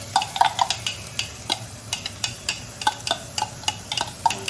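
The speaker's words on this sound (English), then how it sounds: "so I just poured in the ginger and garlic here" Ginger and garlic stir-fry in a pan for homemade chicken rice, with a soft sizzle under repeated sharp clicks and scrapes of the utensil, close by and fairly quiet, with no talking.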